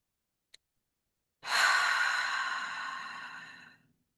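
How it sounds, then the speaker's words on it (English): A slow, deep breath drawn in through the nose and released through the mouth as a long, soft sigh, close and quiet, preceded by a tiny click. "Take another deep breath in through the nose and out through the mouth"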